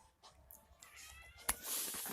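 A pet cat gives a short, faint meow close by, followed by a brief sharper sound and some soft rustling in a quiet room.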